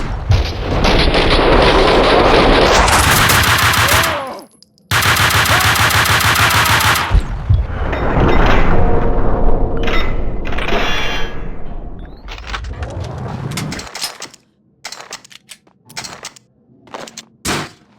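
Gunfire in the video game Max Payne 2, loud dense bursts of automatic fire with booming shots, broken by short gaps and ending in scattered single cracks and clatter.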